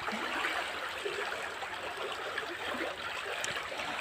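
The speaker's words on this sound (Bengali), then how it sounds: "এখানে এই জলটি কত সুন্দরভাবে বইছে।" Floodwater rushes past a house, a steady, fairly loud hiss of flowing, trickling water that continues unbroken throughout with no speech.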